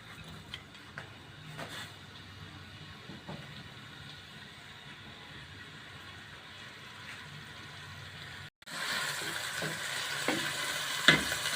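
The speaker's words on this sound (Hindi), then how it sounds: "इससे प्याज अच्छे से फ्राई हो जाते हैं" Sliced medium-size onions fry in a pan with a steady, soft sizzle and crackle; after a brief pause the frying turns louder and brighter, with occasional stirring clinks near the end.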